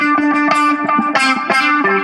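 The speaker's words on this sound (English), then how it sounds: "Let me show you what the auto funk pedal does." Electric guitar run through an auto funk pedal, strummed chords and single picks with a quacky envelope-filter sweep on each attack, loud and close, no voices.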